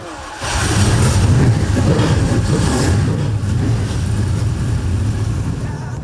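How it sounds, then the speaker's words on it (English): Several Super Sedan speedway race car engines fire up together and rev loudly at Albany, a dense, continuous roar that holds strong after a brief quieter start. "Gentlemen, start your engines."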